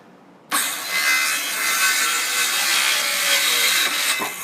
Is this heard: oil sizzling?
no